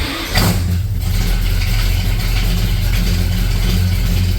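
A 1971 Ford F250 with Sniper fuel injection starting up: a brief crank that catches quickly into a steady, loud, close idle that runs on to the end.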